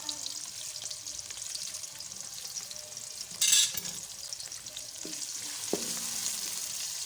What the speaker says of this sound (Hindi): प्याज डाल के इसको अच्छे से ब्राउन कर लेंगे।